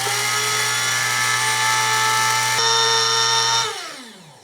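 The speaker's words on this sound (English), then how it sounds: "start grinding. And I want to get a really fine powder ideally." An electric grinder whirs loudly and steadily, grinding pine needles into a fine powder. Its motor drones close by with a constant tone that shifts pitch partway through, then winds down as the motor stops.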